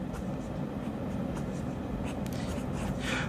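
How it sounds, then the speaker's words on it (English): Diplomat Magnum fountain pen scratching across paper, a faint continuous scrape with small strokes over low background rumble. "When you're writing with this pen, it looks wetter than it is."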